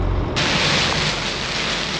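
Storm wind roars and rain rushes steadily against a boat at the mouth of the Ketelmeer, a dense, loud, unbroken wash of noise with a sudden rise in the first moment.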